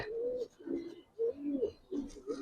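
Giribaz and coloring pigeons coo in soft, repeated low calls close by while being held and shown, with faint background noise and no clear talk.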